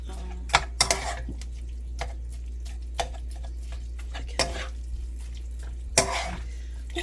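Beef and garlic stir-fried in a pan and tossed with seasoning, a steady faint sizzle under sharp intermittent scrapes and clacks of a utensil against the pan at irregular intervals.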